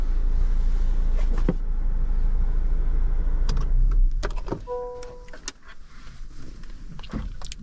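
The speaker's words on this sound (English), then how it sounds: "The parking brake noise just." The electric parking brake on a 2024 Honda Civic Sport Hatchback gives a short whirring motor hum near the end. Cabin rumble, a few clicks and knocks come before it.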